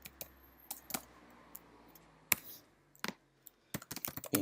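Typing on a computer keyboard, with scattered close, crisp key clicks in short uneven bursts and pauses, growing into a quicker run of taps near the end; no talk.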